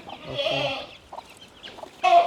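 Young hens cluck close by on a farm in short bursts, a few softer calls in between, then a louder burst of clucking at the end.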